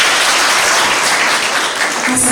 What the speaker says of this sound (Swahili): Wapigie makofi hapa.